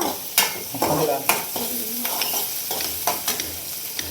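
Tomatoes fry and sizzle in a pan while a utensil stirs them, with loud scraping knocks against the pan over a steady sizzle.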